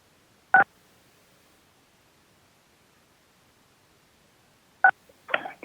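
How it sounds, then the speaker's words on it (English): Two short telephone keypad tones for star 6, pressed to unmute on a call-in line during a public commission meeting, sounding as isolated beeps several seconds apart with faint rustling after the second. "If you will please follow the prompts to unmute by pressing star 6."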